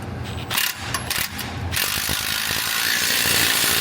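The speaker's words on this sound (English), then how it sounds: "our 3/4 inch bolt, torque this to 80 foot-pounds" A torque wrench ratchets on a 3/4 inch bolt on a Ford Super Duty torsion bar install, giving quick rhythmic clicks that run into a dense continuous ratcheting.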